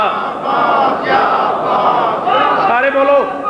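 Large religious gathering at a majlis chanting a slogan in unison, a dense wall of many voices rising and falling together for several seconds, loud and close.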